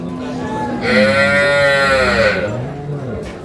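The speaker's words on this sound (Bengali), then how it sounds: "নতুন জোয়ান বাছুর হচ্ছে এটা বকনা বাছুর ফিজিয়ান" A young Friesian heifer calf at a cattle market in Noakhali gives one long, drawn-out moo in the middle of the clip, close and loud over a steady background of market noise.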